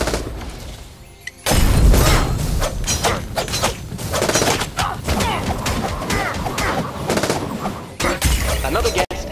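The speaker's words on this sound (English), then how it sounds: "shotgun." Shotgun blasts in the mobile battle-royale game Wild Arena Survivors, a string of loud sharp bursts over continuous game noise and music, with a player talking over the action.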